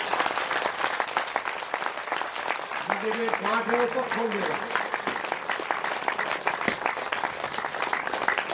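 Audience clapping at a devotional discourse on Krishna, continuous and fairly loud throughout, with a sung or spoken voice rising briefly over the applause in the middle.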